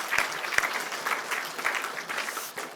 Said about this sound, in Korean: 이 성가대 다시 한번 큰 박수로 격려합니다.